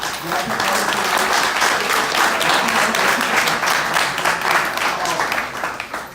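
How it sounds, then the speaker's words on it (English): A conference audience in a ballroom community gathering, the 2018 House Ballroom Leadership Conference, breaks into dense, sustained applause that stays loud and steady for the full six seconds, a continuous wash of many hands with no clear gaps. "clap it up for yourselves"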